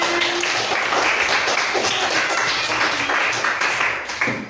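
A classroom of students clapping for student groups after their presentations, a steady wash of applause throughout that fades slightly at the end.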